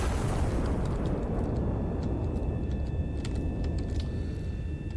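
Artillery gun in Iron Nest fires a shell with a heavy, sustained low boom that rolls on as a loud rumble throughout, fading only slightly toward the end.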